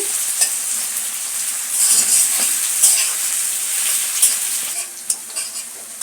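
Onions sizzle steadily in hot oil in a pan for a spicy chicken curry, with occasional scraping stirs close by.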